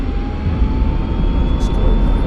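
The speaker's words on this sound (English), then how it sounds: "Okay, let's go full afterburner." An F-16C Viper jet engine in a flight game spools up toward full afterburner, a loud, close, rumbling roar with a faint steady whine over a couple of seconds.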